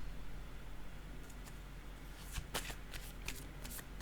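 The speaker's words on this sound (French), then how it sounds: "Je vais déposer une autre carte." Cards shuffled in a quick run of crisp riffling snaps, followed by a soft slap as one is laid down, close and fairly quiet against a hushed room.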